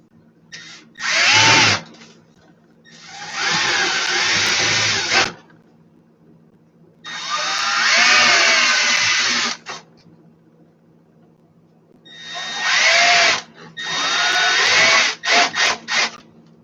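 Power drill boring through a small wooden board, loud close bursts of whining motor and grinding bit in several runs of a few seconds each, separated by quiet pauses and ending in short rapid triggers.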